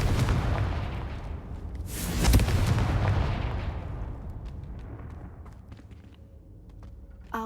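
Confringo fire spell in the Hogwarts Legacy video game: a deep, heavy explosive blast swells and then rolls off into a long rumbling decay, followed by faint crackles.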